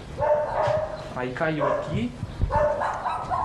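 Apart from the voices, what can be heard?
dogs barking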